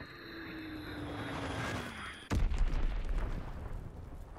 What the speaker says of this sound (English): Enemy bomb incoming.